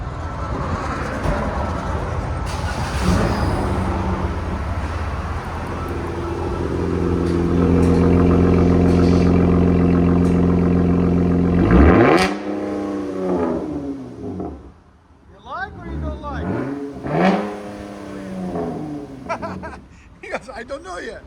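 A RAM 1500 pickup with a 3.6L V6 and its muffler and resonator removed, idling rough, then climbing through a long loud rev that drops off, followed by several sharp blips of the throttle, with talk over parts of it.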